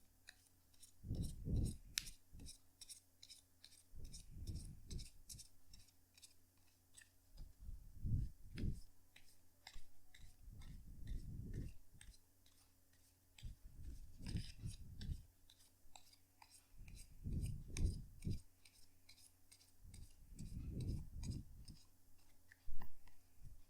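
Tarot cards are shuffled by hand in close, quiet riffles and flicks, with repeated bursts of papery clicking between softer thuds, low and near with no speech over it.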